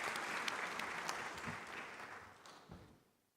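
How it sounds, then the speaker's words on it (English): Audience clapping at a conference session of the Afreximbank Annual Meetings, a dense burst of hand claps that holds steady then tapers off into quiet near the end. "Please give him a round of applause."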